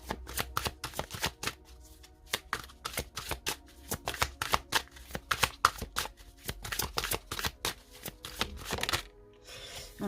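Oracle cards shuffled close up in rapid, crisp riffling bursts that run almost continuously for several seconds before a brief pause near the end.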